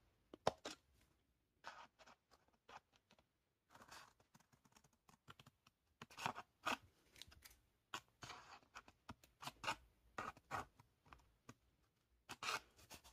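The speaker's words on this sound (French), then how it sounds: "je vais couper en biseau ici. Alors on coupe un petit peu, pas besoin de couper beaucoup." Scissors make a bevel cut through scrapbooking paper, heard as sparse, quiet, crisp snips and rustles in short irregular clusters against a near-silent background.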